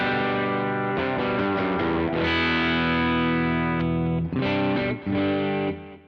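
Electric guitar through a Kemper amp profile with edgy overdrive, a few chords and single notes rung out with sustained distorted tone and several sharp restrikes, played alone and up close.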